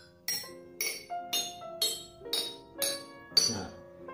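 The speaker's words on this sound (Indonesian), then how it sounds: "dari pukulan-pukulan mulut botol ini, di saat botol manakah bunyi pukulan itu yang paling rendah" Glass bottles struck on their mouths one after another ring out as seven evenly spaced bright clinks, each with a short pitched tone that fades before the next strike, fairly close and alone.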